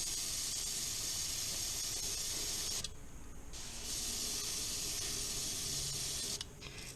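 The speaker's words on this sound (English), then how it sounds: "black loaded up in our airbrush, and we're just gonna see how everything's working" An airbrush sprays black paint onto a crankbait fishing lure, a loud continuous close hiss that briefly drops away mid-way and again near the end before resuming.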